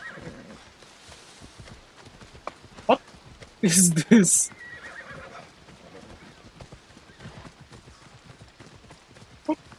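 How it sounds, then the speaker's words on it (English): A horse in a video game gives a loud, close neigh lasting about a second, with scattered hoof clops around it and a voice speaking over the scene. "Hello, horse."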